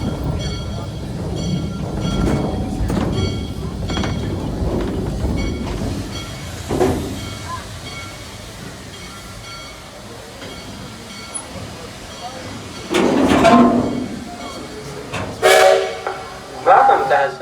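A Shay steam locomotive rolls into a station at a steam museum show, its rumbling chuff under background chatter, with bursts of hissing steam and a short whistle-like blast near the end.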